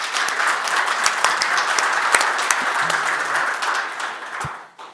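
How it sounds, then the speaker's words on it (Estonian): Sustained audience applause for panelists at a public-sector and private-sector discussion forum, a dense roomful of clapping that stays steady, then tapers off near the end. "Teeme ka meie panelistidele aplausi."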